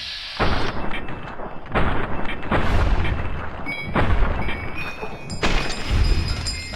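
Heavy gunfire in Fallout New Vegas on Very Hard difficulty: five loud booming shots spaced about a second or more apart, each with a sharp attack and rumbling decay, alone without talk.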